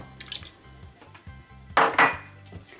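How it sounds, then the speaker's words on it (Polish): An egg is cracked into a bowl for corn dog batter, a quick sharp crack and splat followed by a second hard tap against the rim, amid light kitchen clatter and a low background hum. "Wbijam jedno jajko,"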